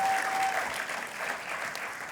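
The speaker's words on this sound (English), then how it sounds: "we need to give one more round of applause to Liz, Jib, and Koshaba over there" Audience applause fills a hall at a teaching and leadership awards gala, a dense, steady wash of many hands clapping close by, with no voices over it.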